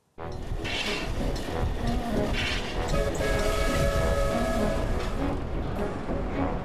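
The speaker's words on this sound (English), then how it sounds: "Imagine you're on a train, travelling for hours across the vast Australian continent" A train travelling across the Australian continent rumbles steadily and loudly throughout, with rolling rail noise, metallic squeals and faint high tones over a continuous wash.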